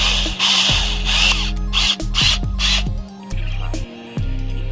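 A drill with a specialty bit works to extract a broken cross pin bolt from the rear differential of a 1985 Chevrolet C10 pickup. Loud, close mechanical grinding and ratcheting comes in uneven bursts, stopping and restarting several times.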